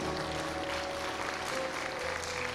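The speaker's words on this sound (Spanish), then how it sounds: "Mientras ellos pasan, usted siga aplaudiendo." A church congregation applauds steadily, with dense, continuous clapping from many hands filling the room at a moderate level.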